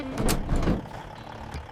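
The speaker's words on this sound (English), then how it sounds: "Truck." A truck sounds nearby with a rumbling engine and hiss, with a brief burst then quieter idling and a faint beep near the end.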